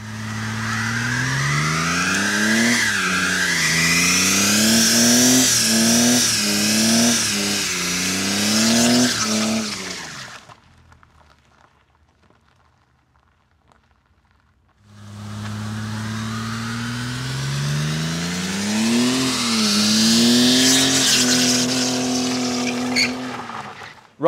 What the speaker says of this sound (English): This is identical to the system that you've just seen and just heard on that 210 out there doing a mega burnout